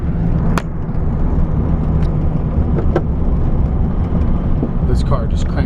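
Interior of a 1964 Volkswagen Beetle with manual gearbox driving along, a loud continuous low road and engine rumble with a few sharp clicks and knocks, a voice faintly present.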